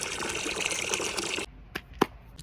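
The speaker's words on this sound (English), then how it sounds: "fill your bucket up with warm water" Warm water gushes from a tap into a bucket in a loud, steady rush that stops abruptly partway through, leaving a couple of faint clinks and knocks.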